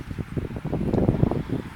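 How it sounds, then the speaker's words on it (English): Wind buffets a phone microphone outdoors on a mild, windy day, producing close, uneven low rumbling gusts and rustle. "It's kind of windy out"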